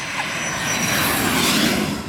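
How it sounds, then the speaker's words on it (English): Pilatus PC-24 business jet engines roar steadily and loud, a broad rushing whoosh with a slight rise and swell, no voices over it. "we're preparing for my first ever demo flight in the Pilatus PC-24"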